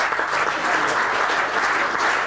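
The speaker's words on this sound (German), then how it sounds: "Applaus bitte auch für die beiden." Dense, even audience applause fills a hall during a 2003 indoor football cup draw, continuous and moderately loud.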